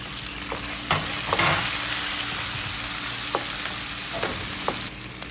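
Ginger, curry leaves and green chilies frying in hot oil in a pan, a loud, dense crackling sizzle punctuated by scattered stirring clicks, close up and with no speech.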